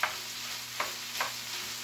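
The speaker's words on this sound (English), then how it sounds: "we're just going to start dropping them in there, and we're going to mix them in our mixture" Pre-cooked bacon drops into a buttery vegetable mixture with snap peas and gets stirred in a pan, giving three soft, brief scraping clicks over a faint, steady background hiss, quiet and close.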